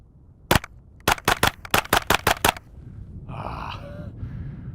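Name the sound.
suppressed KRISS Vector Gen 2 gunfire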